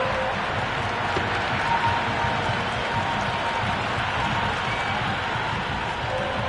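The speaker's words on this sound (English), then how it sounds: "It's evident and ever so audible that the crowd is at near bursting point at today's play." Dense, steady roar of a packed cricket stadium crowd at a PSL T20 match between Islamabad United and Peshawar Zalmi, a continuous wash of cheering and clapping heard from within the stands, with faint talk underneath.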